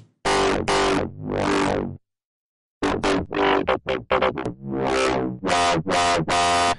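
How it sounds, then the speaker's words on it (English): Heavily distorted, crunchy dubstep synth bass, mid band with tube distortion, in a choppy rhythm, loud and upfront, with short bursts and longer sweeping tones separated by a brief gap. "I'm going to go for some tube distortion with half P1"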